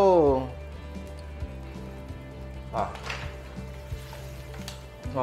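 Mussels in white rice wine hit a hot wok with short bursts of sizzling and hissing over a low background hum, while a voice exclaims and people talk around the cooking.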